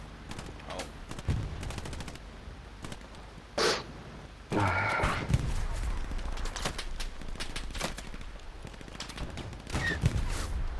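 Gunfire aimed at a machine gunner in the Hell Let Loose shooter on PS5: sharp rifle and automatic shots crack near and far in scattered bursts, with a couple of heavier close blasts and faint voices in the background.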